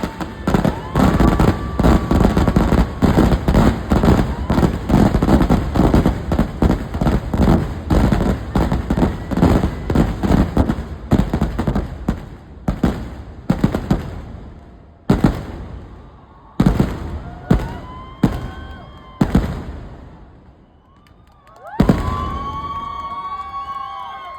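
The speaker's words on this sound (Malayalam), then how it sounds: "വെടിക്കെട്ടിട്ട് എന്തൊക്കെ പൊട്ടലായിരുന്നു" Paramekkavu fireworks at Thrissur Pooram burst in a dense, rapid barrage of loud bangs, then thin out into scattered pops and booms with faint crowd noise toward the end.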